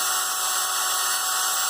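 A power drill spins steadily to polish a metal part from an O-Cedar mop wringer, giving a continuous high-pitched whine at even loudness throughout, with no talking.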